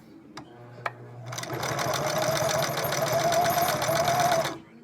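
An old Singer Merritt sewing machine that had sat unused for many years runs steadily for about three seconds, a close, loud whirring hum with a slight whine, after a couple of sharp clicks.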